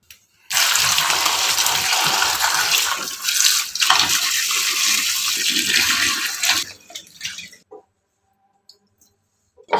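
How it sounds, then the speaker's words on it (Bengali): Water running from a tap over tomatoes being washed for tomato sauce, a loud, steady rushing splash for several seconds that tapers off and stops, followed by quiet with faint clicks. "প্রথমে টমেটোগুলো ধুয়ে নিব"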